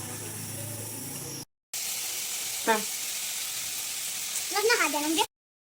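Half-boiled chicken pieces fry in a garlic, ginger and onion paste for spring rolls, a bright close sizzle and hiss that cuts out briefly, with a short voice sound near the end.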